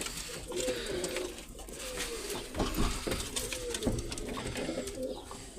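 Pigeons coo repeatedly in a loft where one has just laid an egg, soft throaty calls overlapping at close range amid steady background noise.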